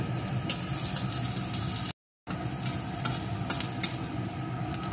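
Chopped onion and green chili fry in hot mustard oil, giving a steady, close, dense sizzle that cuts out completely for a moment partway through, then resumes at the same level with faint crackles and occasional stirring clicks.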